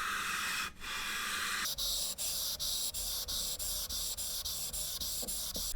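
Sanding down the GPU chip on an EVGA RTX 3090 Kingpin graphics card, heard as a steady, quiet hissing rub broken by regular rhythmic strokes, close up and alone.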